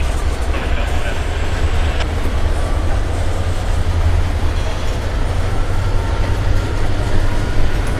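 Near the Norfolk Southern tracks at Coffey's Cliff, a freight train rolls past with a continuous heavy low rumble and steady rail noise. Faint talk sits under the loud, close passage.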